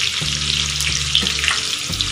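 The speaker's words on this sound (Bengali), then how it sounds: "অল্প সেদ্ধ আলুগুলো আমি দিয়ে দেবো, দিয়ে একটু ভেজে নেবো" Parboiled potatoes fry in a pan with a continuous close sizzle, joined by a low steady hum.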